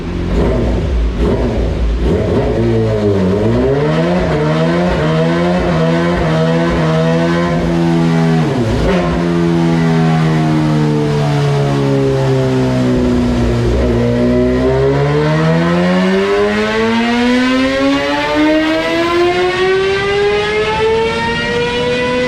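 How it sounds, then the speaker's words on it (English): A Kawasaki ZX-6R 636 sport bike engine is revved on a dyno during a baseline pull. It gives a loud, continuous howl that dips, holds, then climbs in a long sweep to a high-pitched scream, with no talk. "we just did the baseline pull on the ZX6"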